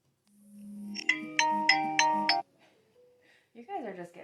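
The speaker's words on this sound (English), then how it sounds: "I know my phone's trying to ring" A phone ringtone plays a run of four loud, evenly spaced chiming tones, then fades, followed by a brief voice.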